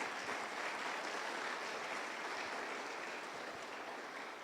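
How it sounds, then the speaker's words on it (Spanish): A church congregation claps hands during a service, a steady, even wash of applause heard from a distance, fairly faint and unbroken throughout. "Dale palmas."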